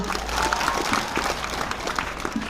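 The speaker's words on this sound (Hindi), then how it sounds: "जोरदार ताली बजा दो।" A crowd claps at a school annual function in Pipli B, Rishabhdev, Udaipur, a steady dense patter of applause filling the short stretch at moderate volume.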